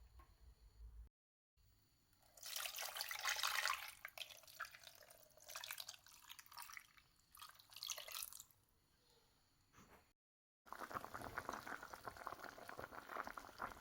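Onions, tomatoes and peppers simmer in water for fish soup, a faint bubbling with louder bursts of pouring water and drips, broken by short silent gaps.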